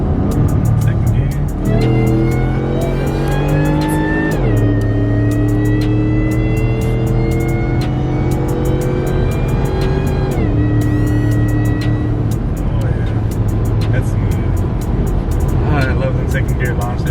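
A Shelby car accelerating hard in second gear in manual mode, its engine revving loud and close in long rising sweeps broken by brief drops at each shift.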